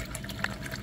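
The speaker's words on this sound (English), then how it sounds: "Pour the whole liquid inside, don't worry, don't be shy." Liquid is poured into a bowl while instant boba pearls are made, a short, soft, continuous watery trickle heard up close and fairly quiet.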